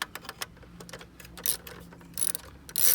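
A ratchet with a deep 13 mm socket loosens a bolt in quick bursts of dry clicking, with a pause partway through and louder, denser ratcheting near the end, close and without speech.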